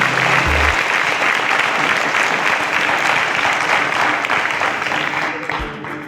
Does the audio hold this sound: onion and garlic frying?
no